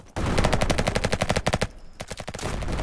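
Rapid automatic gunfire from a Roblox first-person shooter, loud bursts of evenly spaced shots with a brief pause before firing resumes in shorter volleys.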